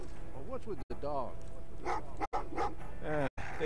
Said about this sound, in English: Well, what's with the dog?